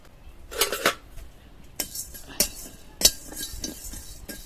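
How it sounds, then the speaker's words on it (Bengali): Whole fennel, coriander and cumin seeds dry-roasting in a dry wok, heard as sharp clinks and scrapes of a metal spatula against the pan in irregular bursts, fairly faint with quiet gaps between strokes. "এই শুকনো কড়ায় হালকা করে ভেজে নেব"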